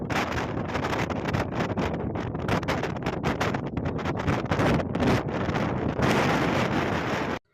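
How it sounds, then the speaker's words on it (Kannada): Strong wind blowing across the open hilltop of Devaramane Betta near Mudigere, a steady loud roaring buffet against the microphone that holds for the whole stretch with no talking. "ಗಾಳಿ ಸೌಂಡ್ ಹೇಗೆ ಬರ್ತಿದೆ ಅಂತ ನೀವೇ ಕೇಳಿಸ್ಕೊಳ್ಳಿ ಇವಾಗ"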